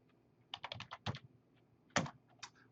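Keystrokes on a computer keyboard, a short burst of quick taps followed by a pause and a few more isolated presses, close and clear with no talking.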